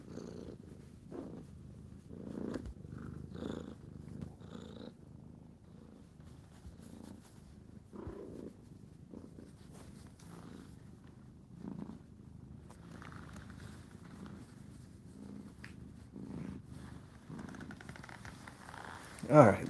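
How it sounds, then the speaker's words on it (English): A pet cat purring softly and steadily, close by, with someone speaking over the purr at times. "that's a big purr. Let's see if you can hear it."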